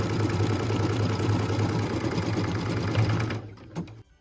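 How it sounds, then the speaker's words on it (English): Embroidery machine stitching a placement line on felt for a Christmas angel ornament, a loud, steady mechanical whirr of rapid stitching up close that stops near the end. "Machine step 21 is stitching the placement line for the angel's robe."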